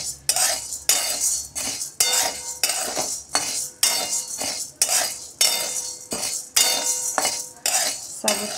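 Sago and rice dry roast in a pan for a chakli bhajani flour mix, with a metal spoon scraping and clinking against the pan in a regular rhythm of strokes, close and fairly loud.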